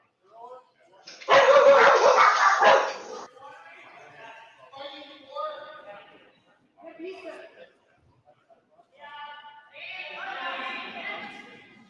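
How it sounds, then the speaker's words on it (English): Several dogs bark excitedly in a home while a package is dropped off: a loud, dense burst of barking at first, then scattered yips and whimpering barks that rise again toward the end. "My dogs got very excited once I was dropping off a package."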